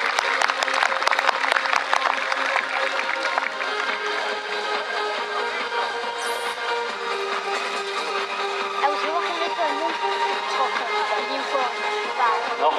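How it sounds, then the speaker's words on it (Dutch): Audience applause at a horse show team performance, a steady, dense wash of clapping from a crowd lasting throughout, with faint background voices mixed in. "Ook applaus voor deze act."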